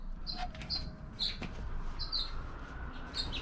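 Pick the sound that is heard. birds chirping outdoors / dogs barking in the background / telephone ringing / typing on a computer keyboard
birds chirping outdoors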